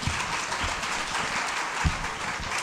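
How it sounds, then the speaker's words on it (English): Audience applause at a university internationalisation summit keynote address: a brief, steady wash of many hands clapping across a hall, even in loudness, with a few distinct claps near the front. "Let's give Dr. Francis another round of applause"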